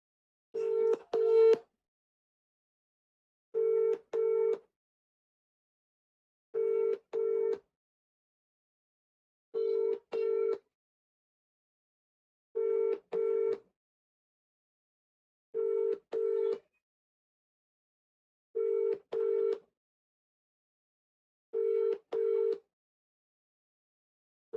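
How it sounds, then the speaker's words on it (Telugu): An outgoing WhatsApp call ringback tone repeats as steady double beeps, about eight paired pulses spaced roughly three seconds apart, clean and alone with silence between. "వాట్సాప్లో కాల్ చేసే ప్రయత్నం చేద్దాం"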